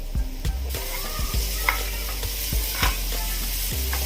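Chickpeas fry in a pan with salt and red chili powder while being stirred, giving a steady close sizzle broken by repeated scraping strokes of the spoon.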